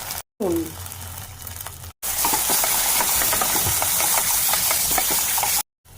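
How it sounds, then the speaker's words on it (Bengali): Spice paste fries in a pan with dense, steady sizzling and spattering that runs unbroken for several seconds, after a short stretch of lower cooking noise at the start. "এবার মশলা ভালো করে কষে নেব।"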